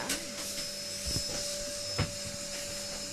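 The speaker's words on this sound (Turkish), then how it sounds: "Anne süpürgeyle yapma ya." A vacuum cleaner runs in another part of the house, a faint steady whine and hiss with a few soft knocks, and no one talking over it.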